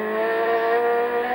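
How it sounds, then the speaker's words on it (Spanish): A 280-horsepower Turismo Carretera touring race car accelerates progressively on the San Jorge circuit, its engine holding a steady, loud, buzzing note for a brief moment with no voices. "Es muy progresiva la aceleración."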